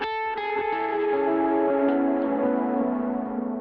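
An electric guitar on the bridge pickup plays a short lead line, its notes ringing out with delay and reverb trailing, bright and sustained, with no talk.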